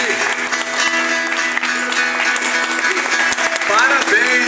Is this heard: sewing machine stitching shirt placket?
no